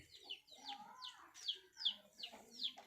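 A black hen clucks in short repeated bursts, several calls in quick succession, fairly close, with other faint bird chatter in the background.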